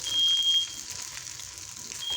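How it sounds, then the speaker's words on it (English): A sensitive kitchen fire alarm sounds a steady high electronic beep at the start and again at the end while cooking on a gas stove, with soft sizzling from the pan underneath. "My fire alarm is very sensitive, so yeah, it'll beep all it wants to."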